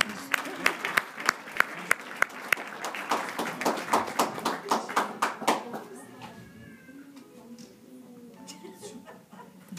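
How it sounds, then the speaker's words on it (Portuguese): A church congregation applauds with rhythmic, moderately loud clapping that fades after several seconds into quieter room murmur and scattered voices. "E eu gostaria que vocês aplaudissem o nome de Jesus"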